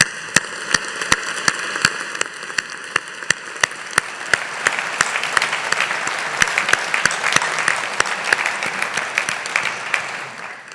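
Applause from a university graduation ceremony audience for the Faculty of Engineering and Faculty of Humanities, a steady wash of many clapping hands that swells and grows denser, with sharp regular clicks running through it.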